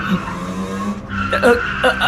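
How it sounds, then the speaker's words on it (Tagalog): A car swerves and skids after its rear tire blows out, a sustained tire squeal and engine drone running close and loud for about two seconds, with a sharper screech toward the end. "Hanggang sa umuga ng malakas ang sasakyan at biglang gumewang-gewang."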